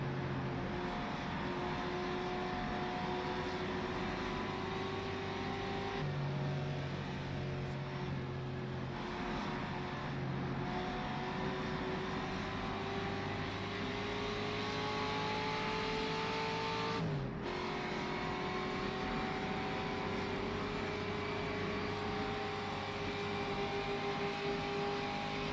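Ferrari race cars drive through corners, engines droning steadily with pitch shifts as they brake and accelerate, a continuous mechanical roar with no talking.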